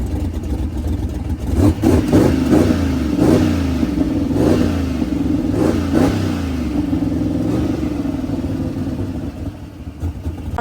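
A drag race car engine rumbles nearby while pulling up to the pit, with several rising revs in the first half, then settling to a steadier idle.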